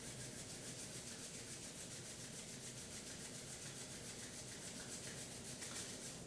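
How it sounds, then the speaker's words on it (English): Palms rubbing together briskly to warm the hands during a chair yoga session, a continuous close, dry swishing friction that holds evenly throughout with no talk. "we can bring our palms together and we can just rub our hands, getting a little heat"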